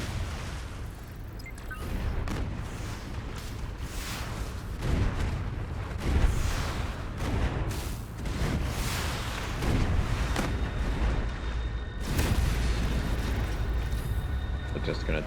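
Combat in the futuristic Anno 2205 game, with repeated booming blasts and bursts of gunfire rolling across a busy, loud battle mix, with radio-style voices talking over parts of it.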